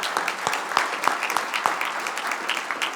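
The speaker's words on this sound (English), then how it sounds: "let's first off give him a round of applause there" Steady applause from a crowd at a Rotary 100th anniversary banquet, dense clapping throughout with a few sharper claps standing out, fairly close and lively.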